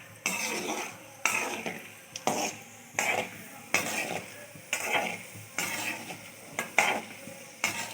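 Ragi uppuma cooking in a pan, with loud rhythmic stirring strokes about once a second scraping through a steady sizzle, close and without talk.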